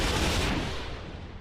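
Anti-missile and CRAM turrets fire in the naval combat game From the Depths, making a loud, dense burst of rapid gunfire that fades slightly toward the end.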